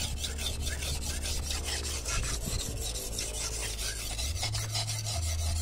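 Steady rasping strokes of a steel blade scraping against a sharpening surface repeat in a brisk rhythm, close up, with a low hum underneath.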